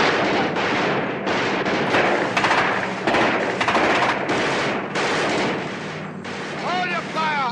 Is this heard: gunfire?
yes